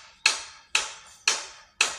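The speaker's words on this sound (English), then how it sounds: "We got some hammering over here on the side." Hammering nearby: four sharp, evenly spaced metallic-edged strikes about half a second apart, each ringing briefly and decaying, loud and close with quiet between blows.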